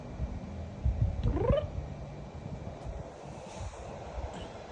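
A single cat gives one short rising meow outdoors, faint against a breezy background with wind rumble, then quiet rustling follows.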